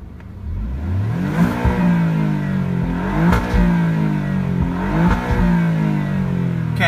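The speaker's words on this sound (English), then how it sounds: "Natural mode, and we're going to rev it." A 2017 Alfa Romeo Giulia Quadrifoglio engine revs repeatedly in natural mode, its pitch rising and falling in loud, close sweeps without any talking.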